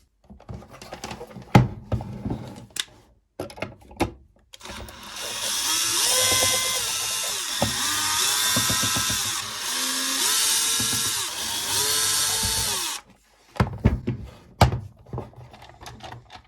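An electric screwdriver or small drill backing screws out of a Traxxas EZ-Peak RC battery charger casing, a whirring motor run of several seconds, close up, framed by clicks and handling knocks.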